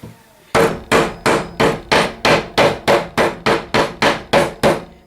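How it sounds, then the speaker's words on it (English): Steady hammer blows while making an oil lamp, about fourteen evenly spaced sharp taps, close and loud with no talking. "I'm going to take my hammer."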